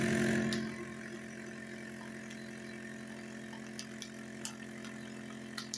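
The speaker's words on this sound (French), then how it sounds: "ça met bien la côte de bœuf sous vide. Et après, ça va souder" A vacuum sealer machine draws the air from a bag holding a côte de bœuf, a steady mechanical hum after a brief louder start, with a few faint clicks near the end.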